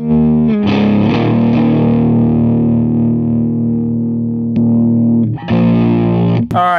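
Distorted electric guitar played through a Box of Rock distortion pedal, pickup selector between neck positions, a sustained chord ringing loud and thick, then a brief pause and a fresh strum near the end.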